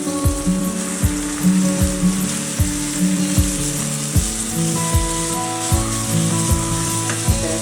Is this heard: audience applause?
no